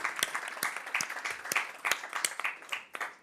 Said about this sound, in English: A round of applause for Team Buggy.